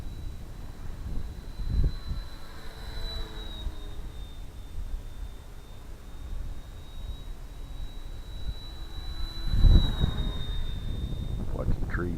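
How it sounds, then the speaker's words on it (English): An electric motor on an Airfield RC P-47 750mm model airplane whines steadily in flight, a thin high-pitched tone over wind noise, with a couple of louder whooshing passes overhead. "Sound to me like the motor's already working loose again, and that motor shouldn't be that loud."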